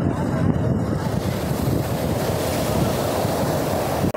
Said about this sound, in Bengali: আর এই সমুদ্রের পাড়ে সমুদ্রের আওয়াজ,